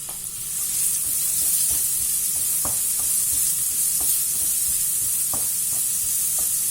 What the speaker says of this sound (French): maintenant je vais mettre mes oignons